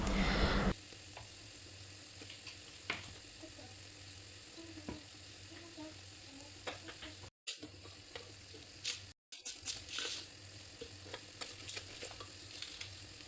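Ground spices, including pepper powder, sizzle in a pan for a beef mandi while being stirred. The frying is steady and low, with scraping and light clinks, and it briefly cuts out twice.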